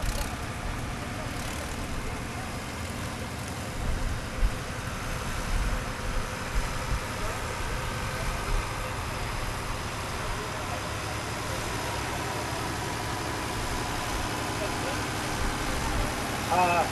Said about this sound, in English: This is an International 986, newly restored, another Vanderloop collection tractor